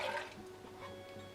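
Water poured into a basting sauce for smoked beef short ribs, a short soft liquid splash and trickle heard close by, brief and fairly quiet, with no talking.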